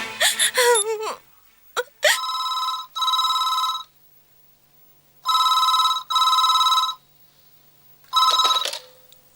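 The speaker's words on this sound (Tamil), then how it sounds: "பிரசாத்துக்கு உடனே ஃபோன் பண்ண" A telephone rings in four loud, bright bursts separated by short silences, heard as a call is placed. A brief moaning voice is heard before the ringing starts.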